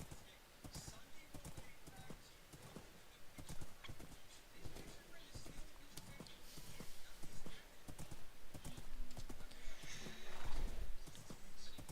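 Horse hooves clip-clopping in a steady rhythm while riding in the video game Minecraft, with an occasional whinny and game ambience.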